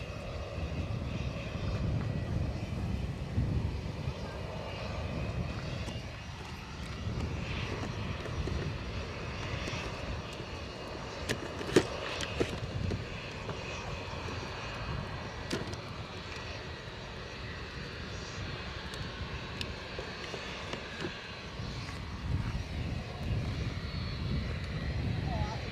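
WestJet airliner taxiing out at Edinburgh Airport, a low, faint steady engine rumble with some distant clicks and bumps, while people talk over it.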